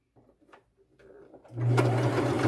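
A sewing machine stitches lace onto the bottom of a long fringe boho purse, starting after a few faint handling taps and running as a loud, steady motor hum close by for the final second.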